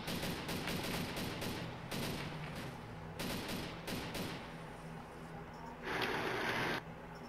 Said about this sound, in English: Shoot his tires out.